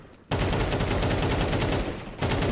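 Dense, continuous automatic gunfire sprayed through a wall in a competitive tactical shooter match, loud and rapid with a brief lull before the burst resumes.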